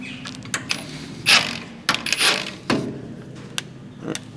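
A socket ratchet undoes a truck's rear mount bolts, giving a few close metallic clicks and short ratcheting bursts with pauses between them, with no voices.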